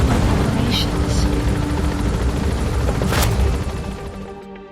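A helicopter in Metal Gear Solid V sets down for an extraction, its dense rotor thrum carrying loudly and fading toward the end, with a voice talking over it.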